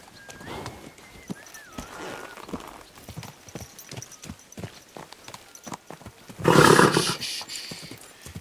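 Horse hooves clip-clopping in the medieval video game Kingdom Come Deliverance II, a steady close rhythm of hoof strikes, with a tonal whistle or whinny early on and a loud burst of noise near the end.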